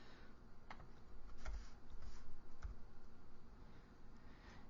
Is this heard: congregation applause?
no